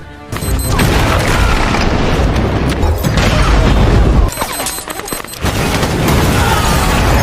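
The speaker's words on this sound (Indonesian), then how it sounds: "Lalu Andre meledakkan ranjau yang telah mereka pasang." A landmine blast as a sound effect: a loud, sustained booming rumble with crackling debris, briefly dipping before a second heavy roar.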